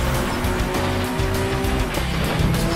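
A car races in the video game FlatOut Ultimate Carnage, engine droning loudly and continuously with tire squeal and skidding, close and alone without talk.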